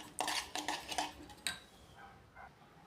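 A spoon clinks and scrapes against a bowl while strawberry shrikhand is stirred, a few close, sharp knocks in an uneven rhythm that fade into softer scraping.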